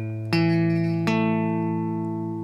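Guitar notes of a power chord struck one after another, two clear plucks about a second apart that ring on and layer together, close and clean, with no talking.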